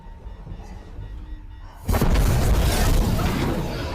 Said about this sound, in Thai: แล้วขณะที่กำลังรีบหนีออกมาจากห้องแลบนั้น มันก็ดันเกิดระเบิดขึ้น